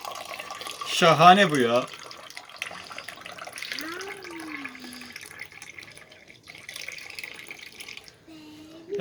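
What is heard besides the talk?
watermelon juice pouring from a tap into a glass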